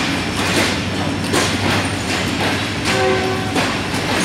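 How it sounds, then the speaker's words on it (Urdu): Business Express passenger train entering Lahore station, with a loud continuous rumble of wheels and cars rolling past, rhythmic clacks over rail joints and a brief tonal squeal, close and steady. "یہ پارک بزنس انٹر ہو رہی ہے"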